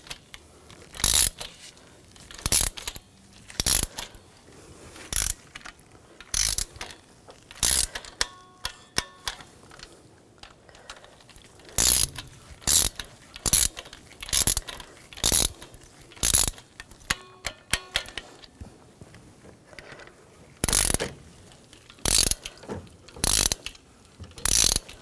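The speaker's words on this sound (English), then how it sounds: "I'm going to use a ratchet wrench on that one." A ratchet wrench tightens valve cover bolts on a 2006-2010 BMW 550i 4.8L V8, its pawl clicking in repeated quick bursts of rapid ticks separated by short pauses, close and clear with no voices.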